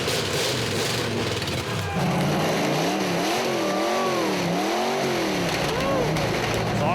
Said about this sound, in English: the challengers are ready to see if their engine will fire up